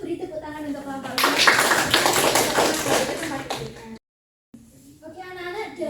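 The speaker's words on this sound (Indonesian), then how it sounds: "kalau begitu beri tepuk tangan untuk kelompok 5" Students in a classroom clap for a presenting group, a burst of dense clapping lasting a few seconds with children's voices mixed in, then a brief silence before classroom chatter resumes.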